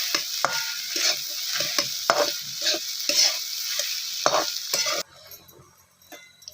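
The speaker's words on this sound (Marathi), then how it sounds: "आपल्याला भुर्जीना चांगली अशी परतून घ्यायची" Egg bhurji stirred and sautéed in a hot pan, a steady close sizzle broken by repeated scraping strokes of the spatula, then cutting off suddenly into near quiet with a faint low hum.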